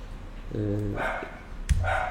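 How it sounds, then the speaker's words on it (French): A dog barks several times in a room nearby, moderately loud, interleaved with someone speaking in French. "Ah, mon chien aboie, désolé pour ça."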